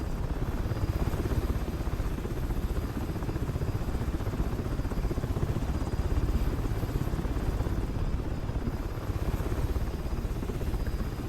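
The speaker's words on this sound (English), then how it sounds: "this helicopter does not go sideways very well" Steady, heavy rotor thump with a dense engine roar from an MH-60L DAP attack helicopter in War Thunder, loud and continuous throughout, no voices.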